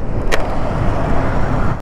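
A car swerves sharply and drives carelessly on a road in Orchha, India, nearly causing a crash; loud, steady engine and road noise fills the whole moment with no one talking.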